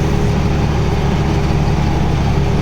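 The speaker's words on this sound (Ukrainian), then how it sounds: "І зараз трактор сразу в нагрузочку." A tractor engine labors under load while cultivating a field at night, a steady, loud, low rumbling drone that holds evenly throughout with no voices.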